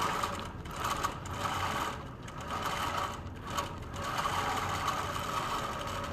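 Sewing machine doing free motion quilting, a continuous fast whirring stitch that speeds and slows in waves with short pauses, running alone at moderate volume.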